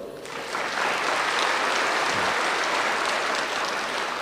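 A hall audience at a Brahma Kumaris spiritual class breaks into sustained applause, swelling within half a second and holding steady and dense for several seconds with no talking over it.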